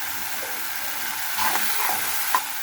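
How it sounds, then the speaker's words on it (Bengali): A spice paste of ginger, garlic, turmeric, chili and cumin fries in a pan with a steady, close sizzle and a few soft stirring scrapes. No one speaks. "মশলাটা আমি একটু ভালোভাবে কষিয়ে নিচ্ছি, যাতে আদা রসুনের গন্ধটা না থাকে।"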